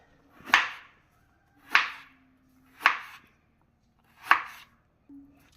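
A knife chops bottle gourd into small pieces on a board: four crisp, evenly spaced strikes about a second apart, close and distinct against silence, with a faint softer tap at the end.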